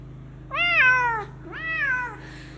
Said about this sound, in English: The unboxing is going to be full of meowing.